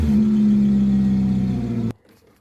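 A Nissan Altima's engine runs close by at a steady idle with a strong low hum, then cuts off abruptly near the end, leaving quiet.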